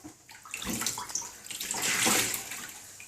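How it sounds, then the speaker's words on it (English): Wet nurse's veil fabric wrung out by hand, giving a run of splashing, dripping water that swells to a louder gush midway, close up with no talking. "Okay, so that's those nice and wet. Give them a wring out."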